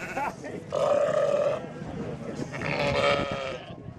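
Sheep at an agricultural show with blue-faced Leicester, Swaledale, Rough Fell and Texel breeds, bleating loudly in two long calls close by over crowd murmur.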